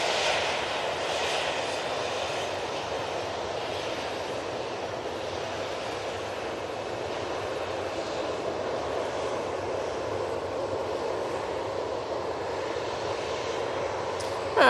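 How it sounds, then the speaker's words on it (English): Ryanair Boeing 737-800 bound for Gdansk at Manchester Airport, a continuous broadband jet engine roar, fairly close and steady, with no talk over it. "So this is the Ryanair to Gdansk."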